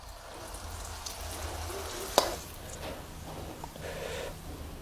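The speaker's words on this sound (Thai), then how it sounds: "แล้วก็ทอดต่อให้หมดเลยครับ" Steady sizzling and crackling of enoki mushroom fritters deep frying in hot oil, with a sharp clink partway through.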